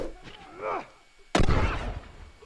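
A single loud gunshot from a heavy weapon in The Last of Us multiplayer, a sharp blast followed by a short ringing decay, preceded by quieter game sounds and faint voice.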